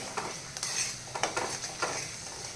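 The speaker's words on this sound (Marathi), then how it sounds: "वाटण तेलामध्ये फ्राय करून घ्यायचो कारण आपण इथे कच्चा कांदा घेतलेला होता म्हणून आपल्याला हे तेलामध्ये छान असं फ्राय करून घ्यायचं आहे" Ground onion masala paste frying in oil in a pan for an egg curry, with a soft steady sizzle and intermittent stirring scrapes of a spoon against the pan, close and fairly quiet, with no talking.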